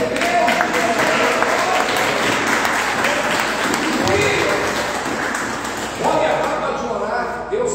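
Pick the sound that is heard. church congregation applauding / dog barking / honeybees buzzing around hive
church congregation applauding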